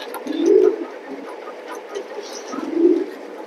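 Racing pigeons, a male and a female pair, give two low, throaty coos about two seconds apart, fairly close, over a quiet background with faint distant aircraft-like hum.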